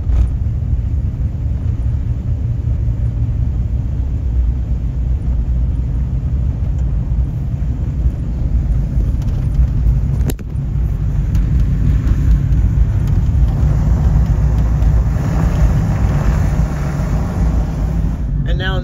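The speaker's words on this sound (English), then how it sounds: "let's drive across the fifth largest dam in the United States." A car drives across the fifth largest dam in the United States, making a loud, steady engine and road rumble heard from inside the vehicle for the whole stretch, with a brief dip midway.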